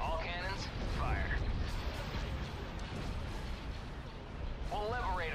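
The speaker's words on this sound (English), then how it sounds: "All cannons, fire." Ship cannons firing in a naval battle video game, a dense rolling barrage of heavy booms and rumbling explosions, with voices speaking over the gunfire.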